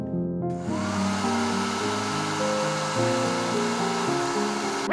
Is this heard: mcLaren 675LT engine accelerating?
no